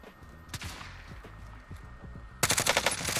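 Rapid bursts of video game gunfire from a battle royale match, scattered single shots and thumps giving way to a loud, fast automatic volley near the end.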